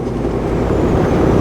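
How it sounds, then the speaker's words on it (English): Road traffic starting to move, a dense low rumble of engines and tyres that holds steady and close, loud throughout with no voices. "Now traffic gets up and gets moving."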